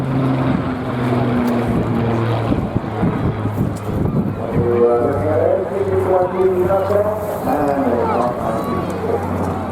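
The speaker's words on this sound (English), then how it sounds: "Very special and iconic aircraft." An aircraft drones overhead at the Airbourne 2024 air show, its propeller hum steady and fairly loud beneath a commentator speaking and gusts of wind noise.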